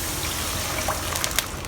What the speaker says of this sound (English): Add in a cup of water.